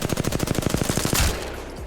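Rapid automatic gunfire from an Apex Legends weapon, a fast burst of about fifteen close, loud shots ending in a sharper crack, then a brief decaying tail.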